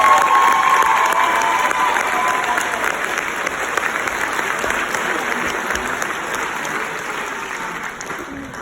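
An audience applauds faculty and staff standing up at a school gathering: dense, loud clapping with some cheering, steady at first and slowly tapering over several seconds.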